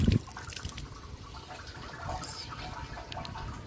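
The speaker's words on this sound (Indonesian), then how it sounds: "Tempat cuci tangan di sini" Water runs at a hand-washing station in a park in Chiayi, Taiwan, with a steady, moderately loud splashing trickle and drips and faint outdoor ambience.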